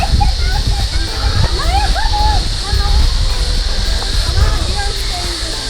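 Somersby Falls on the Central Coast pours in a steady, loud rushing hiss of falling water, while people talk and exclaim over it throughout.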